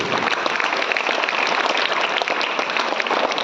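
Dense, continuous audience applause from a crowd at a school event honouring students, a steady wash of many hands clapping with no pauses throughout.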